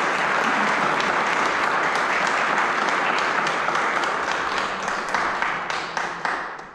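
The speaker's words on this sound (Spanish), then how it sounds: "Un aplauso, por favor." An audience at a book presentation breaks into sustained, dense applause that stays strong and then thins to individual claps as it fades toward the end.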